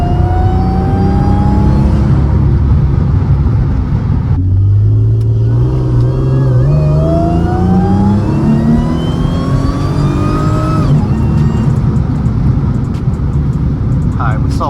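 A Mercedes C32 AMG with a supercharger accelerates hard in manual mode, its engine climbing loud and close through rising pitch sweeps, pausing for gear shifts and then climbing again, with a voice talking over it.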